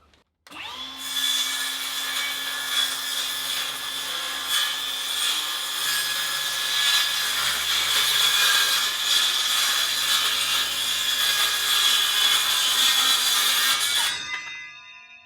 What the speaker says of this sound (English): first let's cut this bit of board down